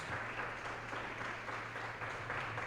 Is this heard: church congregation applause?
yes